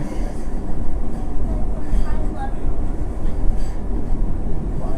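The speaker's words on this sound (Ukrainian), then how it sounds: "Мені подобається це ЛРТ." An Edmonton LRT light rail train runs close by with a steady, loud rumble and rolling rail noise that lasts the whole stretch, and a voice sounds over it.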